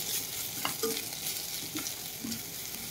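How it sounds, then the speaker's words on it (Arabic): Vermicelli with carrot and celery sautés in a pan, a soft steady sizzle broken by a few quiet stirring scrapes, faint and close, without speech. "اشوحهم مع الشعريه شويه. كمان معايا كام ورقه من الكرفس هيتشوحوا معاهم"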